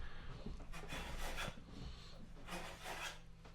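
Hand plane taking shavings off a curved wooden edge, repeated close rasping strokes with a rhythmic push-and-pull swish, alone and without talk.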